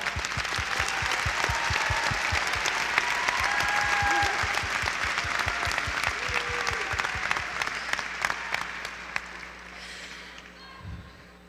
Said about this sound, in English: let's all give them a huge round of applause for all their help